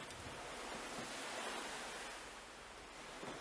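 Stormy sea surf with wind, a steady broadband roar of crashing waves and gusts heard from a seaside hotel balcony, continuous and fairly distant without talk.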